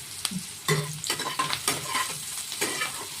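Onions fry in oil with a steady crackling sizzle, broken by repeated scraping and tapping as a utensil stirs them in the pan, close and moderately loud, with no talking.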